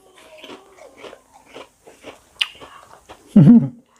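Close-up crunching as small corn-flavored rice crackers are bitten and chewed in quick, scattered bites, ending with a brief loud tonal whine.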